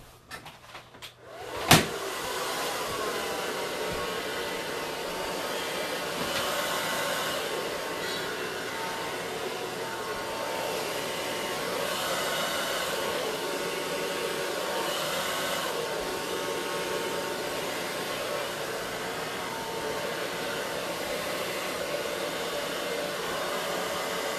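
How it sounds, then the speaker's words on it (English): A hair dryer clicks on and blows with a steady, loud whooshing hum over epoxy on a tumbler, holding for a long stretch, close by and unchanging. "I'm going to grab my blow dryer real quick."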